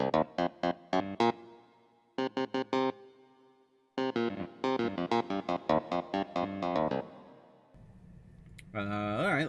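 Short synth notes played in bursts with a metallic, shimmering plate reverb trailing after each phrase, fairly quiet and close.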